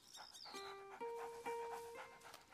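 A dog in the video game A Plague Tale: Innocence whimpers and whines in a few short, high, tonal cries, quiet and close, with faint game ambience around it.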